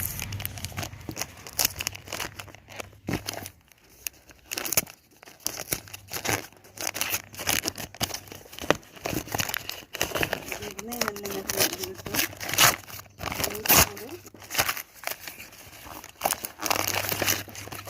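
Packaging for a Boya BY-M1 lapel microphone is unboxed in close, irregular bursts of crinkling, rustling and tearing, with a voice present at moments.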